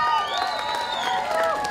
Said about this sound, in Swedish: ge en stor applåd till Khalifa!